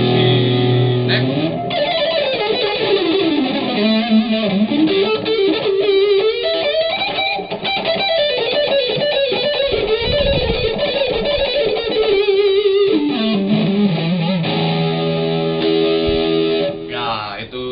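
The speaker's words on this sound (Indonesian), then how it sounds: "Kalau misalnya lagu rock, kita menggunakan distorsi yang agak sedikit tebal" Tokai electric guitar played through thick rock distortion, a sustained loud riff with shifting chords and bends running continuously, with no talk over it.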